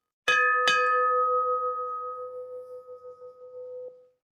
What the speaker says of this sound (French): il y a une cloche, alors évidemment, nous devons faire sonner cette cloche